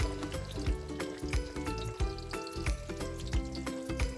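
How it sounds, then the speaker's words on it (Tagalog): Steady sizzling of eggplant frying in oil, heard close up under background music with a regular beat. "Saglit lang naman prituhin ng talong eh"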